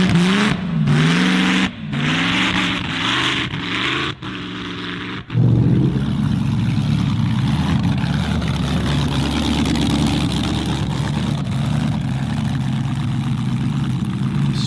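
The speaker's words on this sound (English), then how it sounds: "Supercharged older car there, dual wheels, 1600 horsepower." A supercharged older race car on dual wheels, rated around 1600 horsepower, revs in several sharp rising bursts, then settles into a loud, sustained, heavy roar.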